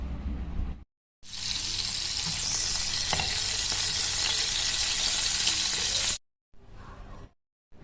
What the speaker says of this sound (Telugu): 2 గ్లాసులు బాస్మతి రైస్ ఇవి 4-5 సార్లు బాగా నీళ్ళు పోసి కడిగి నానబెట్టేసేయాలండి